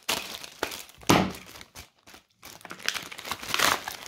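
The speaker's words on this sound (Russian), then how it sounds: "следующий пакетик открываем, достаем, неправильно открыла," A plastic package bag is torn and opened during an unboxing, with bursts of crinkling and crackling, a sharp louder rip near the start of the second second, a brief quiet pause, then more rustling handling close to the microphone.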